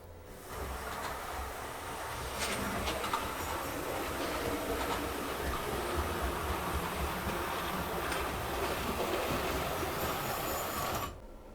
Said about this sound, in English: I'm going to move the train along, show you it going across the track.